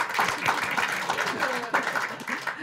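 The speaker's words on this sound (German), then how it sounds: "Ein Applaus bitte" Live stage audience applauding at a Low German podcast show, a dense, steady wash of clapping lasting a few seconds, moderately close, with voices mixed in.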